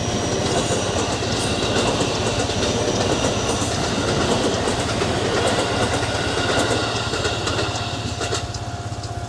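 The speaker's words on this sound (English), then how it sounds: "I'm going to watch this train and stop talking for a second" A train passes close by, its steady rumble and rhythmic clickety-clack of wagons rolling loudly and continuously before easing slightly at the end.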